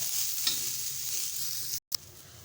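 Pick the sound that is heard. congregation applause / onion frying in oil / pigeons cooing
onion frying in oil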